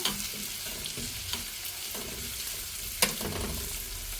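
Onion sizzles steadily in hot oil in a pan while tomato chutney is cooked, with soft stirring and a sharp clink of a utensil near the end.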